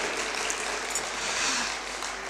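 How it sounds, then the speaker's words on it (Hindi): An audience clapping at a seminar on e-commerce and AI, heard as a dense hissing wash of many hands that blurs into a steady, rain-like roar without distinct individual claps. "आप लोगों की तालियों में कमी है"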